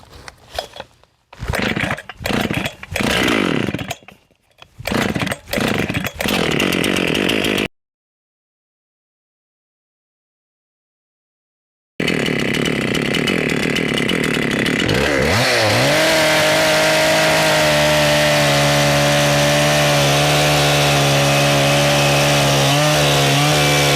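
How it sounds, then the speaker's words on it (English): A 1989 Husqvarna 268 XP chainsaw warming up and cutting white pine logs in a log yard: loud bursts of revving and idling, then a sudden cut to silence, then the saw roaring steadily through the wood, close by and with no talk. "Get the saw warmed up. I got my Husqvarna 1989"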